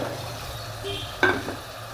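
Tomato, green chilli, drumstick, potato and brinjal are stirred with spices in a pan, giving a soft continuous sizzle and a brief scraping stir partway through, with no voices.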